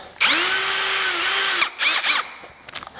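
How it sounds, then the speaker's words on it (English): A power drill spins a stainless steel wire brush to clean rotted, trashed metal parts. A loud, steady whine lasts about a second and a half, followed by a few shorter revving bursts and fading clatter. "is just a stainless steel wire brush."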